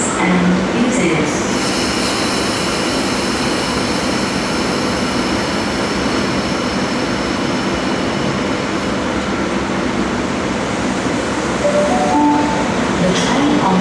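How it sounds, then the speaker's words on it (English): A Sydney Trains train rumbles loudly at a Granville station platform, a dense, steady roar of wheels and motors with faint squealing tones, and a rising whine near the end. "The train on platform 3 goes to City Circle via Town Hall."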